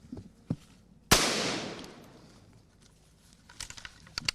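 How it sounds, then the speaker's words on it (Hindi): Gunfire at an army position in dense jungle: a sharp loud crack with a long ringing decay, a few lighter pops before it and a cluster of quick faint shots trailing after. "ये देखिए इस तरह से लगातार यहाँ पर गोलियां चल रही है"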